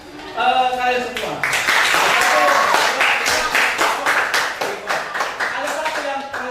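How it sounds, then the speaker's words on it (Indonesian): A class of students bursts into applause after a teacher's explanation in a high-school physics lesson, a dense burst of clapping that starts abruptly and holds steady with a brief pause mid-way, loud and close in the room. "Oke, tepuk tangan buat kalian semua"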